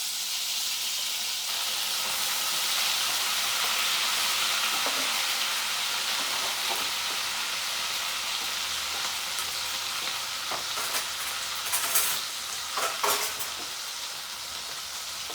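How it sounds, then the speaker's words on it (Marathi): Wet masala of onion, coconut, garlic, cumin and ginger fries in a pan for a hearty field-bean vegetable dish, a loud continuous sizzle and hiss with scattered spatula scrapes and clinks near the end, no talking. "तर आता इथे आपल्याला टाकायचा आहे हा मसाला"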